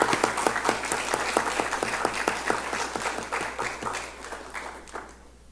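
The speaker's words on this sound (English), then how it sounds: "let's give a round of applause for Board Member John Gall" A room of people claps for a board member at a Board of Education business meeting, with steady dense applause that thins and fades toward the end.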